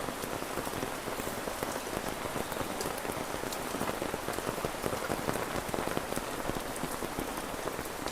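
Steady rain falls on surfaces, a dense, even patter and splash throughout with no pauses or voices.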